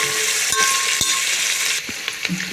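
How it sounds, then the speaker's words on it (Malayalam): Onion, green chili and mint leaves sauté in a pan for a Telangana-style dish, giving a bright close sizzle broken by a few quick stirring scrapes and taps. "വെച്ച ഉള്ളി, പച്ചമുളക്, അതുപോലെ പുതിന, അതെ നമ്മുടെ മിൻറ്റ് ലീവ്സ്, ഇതെല്ലാം ഇട്ട് കൊടുക്കുകയാണ്"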